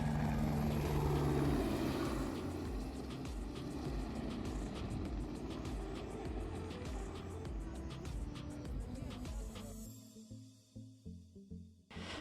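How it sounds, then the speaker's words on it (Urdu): Helicopter passing over Shangrila Lake near Skardu: a loud, steady rotor and engine drone fills most of the clip, then breaks into uneven thumps as it moves away near the end. "جھیل کے اوپر سے ہیلی کاپٹر گزرتا ہوا جا رہا ہے."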